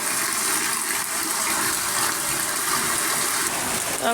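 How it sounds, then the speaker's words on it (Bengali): Steady, heavy rush of water pouring and splashing, like rain drumming into a nearly full bucket, continuous and loud throughout with no voices. "কীরকম বৃষ্টি হচ্ছে"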